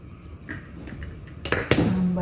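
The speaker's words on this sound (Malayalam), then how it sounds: "ആ പുളി പിഴിഞ്ഞ വെള്ളത്തിൽ ഇനി നമുക്ക് സാമ്പാർ പൊടിയൊക്കെ ഇട്ട് മിക്സ് ചെയ്യണം" Metal spoon stirring sambar powder into tamarind water in a vessel, light scraping clinks that build to a few sharp clanks against the pot near the end.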